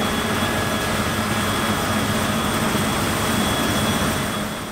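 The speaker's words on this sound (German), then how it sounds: "Der Rotor-Mähdrescher Torum 770 ist die leistungsfähigste Maschine von Roszelmasch" A Rostselmash Torum 770 rotor combine harvester, driven by a 520 hp Cummins engine, runs on a farm with a loud, steady, unbroken mechanical drone and roar that fills the whole stretch without pauses.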